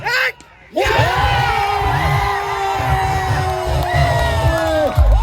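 Spectators at a village cricket tournament final roar and whoop after a big moment, a loud sustained crowd cheer with shouts and calls rising over it, following a brief lull.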